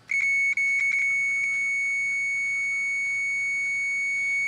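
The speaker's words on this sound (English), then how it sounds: "When I touch this together, there should be a buzzer of some kind" An Etekcity MSR-R500 digital multimeter's continuity buzzer sounds as the probes touch, first with a few quick stuttering beeps and then a steady, shrill continuous tone held close and alone.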